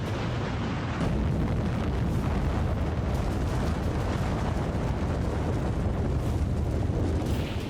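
A deep, massive underground explosion's roar rises after a brief moment and rumbles on continuously, loud and sustained to the end.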